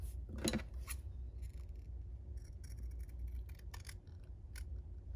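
Scissors trim a paper craft piece, giving a few crisp snips close by, the loudest near the start, over a low steady background hum.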